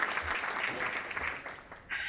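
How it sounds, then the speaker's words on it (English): An audience claps steadily to welcome a keynote speaker at a map-making conference, a dense wash of many hands at moderate distance, easing slightly before swelling again at the end. "Everyone's clapping."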